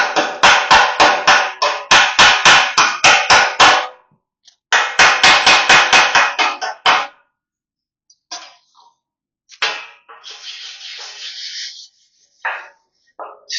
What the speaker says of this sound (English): Time to clean the slag off.